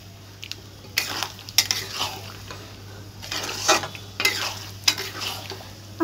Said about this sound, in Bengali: এবার সব কিছু নেড়ে চেড়ে ভালো করে কষিয়ে নেব